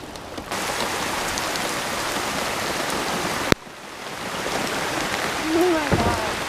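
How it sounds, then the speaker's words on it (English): Steady rain falls on water around a kayak during bass fishing in Georgia, a dense loud hiss that briefly cuts out midway and then swells again, with a faint voice near the end. "Here comes some rain."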